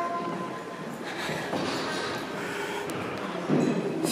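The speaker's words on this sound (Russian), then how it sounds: "Это не наш поезд уезжает?" A passenger train rumbles and hisses at a railway station, a steady close wash of rail noise with a brief heavier swell near the end, no talk heard.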